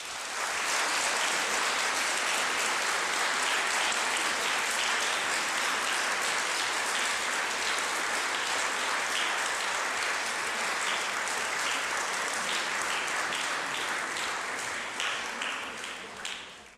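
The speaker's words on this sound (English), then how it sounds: "it seems an applause will suffice" Audience applause for Senegal, a dense, even patter of many hands clapping at moderate distance, sustained for about fifteen seconds before tapering off at the end.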